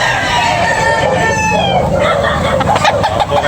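Roosters crow and chickens cluck at a busy poultry market in Tabunok, Talisay, loud and close, with overlapping calls over a dense crowd murmur.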